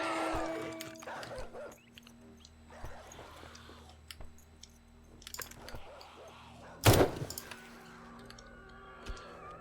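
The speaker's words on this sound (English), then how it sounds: "Zombie dog." A zombie dog in the video game 7 Days to Die gives a few short yips and barks over a quiet game backdrop, with one louder, sharper burst near the end.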